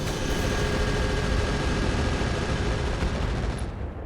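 Weapons fire in the RogueTech BattleTech mech game: a dense, continuous barrage of loud booming shots and rumble that runs almost without a break, then thins out near the end.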